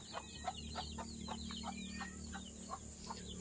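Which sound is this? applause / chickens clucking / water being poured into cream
chickens clucking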